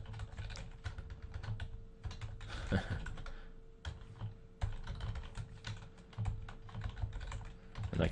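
Rapid clicking of computer keyboard keys while writing Java code, a close and steady stream of keystrokes with short pauses over a faint steady electrical hum.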